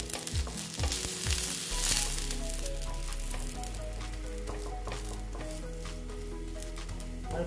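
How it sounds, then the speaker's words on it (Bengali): A semolina and vegetable paratha studded with sesame seeds frying crisp in a pan, giving a steady close sizzle with a few scraping stirs near the start. "আর একটু ভেজে নিচ্ছি"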